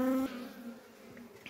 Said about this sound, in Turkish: Kılıç arısı bu. Saldırıyor.